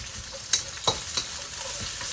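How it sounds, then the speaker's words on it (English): Onion and garlic fry in a little oil in a pot while cabbage is being sautéed, giving a steady soft sizzle with a few sharp stirring scrapes and taps near the start, no talking. "Cabbage has oil, so I use little oil, put it in the pot. Onion, I'm adding garlic."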